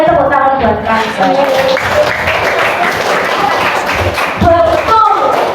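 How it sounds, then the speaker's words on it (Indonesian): Classroom applause for a student named Kansa during a microteaching lesson, a brisk burst of clapping from a small group close by, with voices talking over parts of it. "tepuk tangan buat Kansa"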